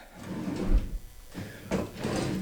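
Drawers are opened and closed in a soap-making studio, giving soft wooden sliding rumbles and a couple of dull thuds, fairly quiet and close by.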